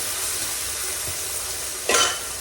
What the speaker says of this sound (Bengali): তো এই যে রান্নার জন্য মাছটা ভেজে নিচ্ছি। মাছটা দিয়ে দেবো কড়াইতে।